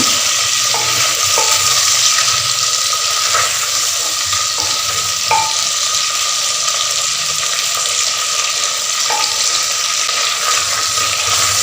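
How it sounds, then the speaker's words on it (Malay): Steady sizzling and frying fill the scene, with occasional scrapes and clinks of a utensil stir-frying potatoes in a pan, close and continuous. "Goreng-goreng ni ya, proses ni memang penting untuk kuah dia nanti lekat dekat kentang."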